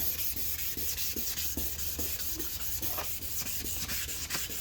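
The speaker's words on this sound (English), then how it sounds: "this one's a little bit easier to sand and get prepped" A car headlight lens being sanded by hand in even back-and-forth strokes, a steady close rasping scrape with regular rhythmic pulses throughout, no voices.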